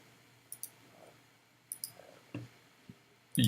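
Several light, close computer mouse clicks in a quiet room, coming singly and in quick pairs with pauses between them.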